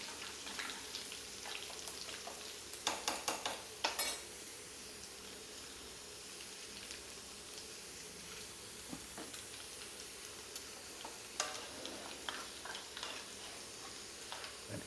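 Mustard seeds spluttering in hot oil for a pickle tempering, a faint steady sizzle broken by scattered sharp pops and crackles, with no talking.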